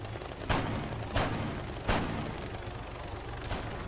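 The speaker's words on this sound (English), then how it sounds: "I can hear really loud gunshots" Four loud gunshots in Arma 3 crack out at uneven intervals against a steady low rumble, sharp, punchy, and fairly close.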